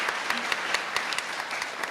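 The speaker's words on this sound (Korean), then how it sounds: "그래도 박수 한번 보내주시면 좋을 것 같은데요" Audience applause at a Teachers' Day ceremony, a steady wash of many hands clapping at moderate loudness, with faint distinct claps popping through the even crowd sound.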